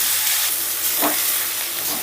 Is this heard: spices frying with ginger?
yes